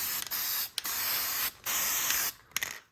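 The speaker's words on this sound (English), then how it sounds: "high-tech spray gasket sealant" Several short bursts of gasket sealant aerosol spray hiss close by, separated by brief pauses, with a final quick spurt at the end, during a Yamaha Rhino 780cc big bore engine build.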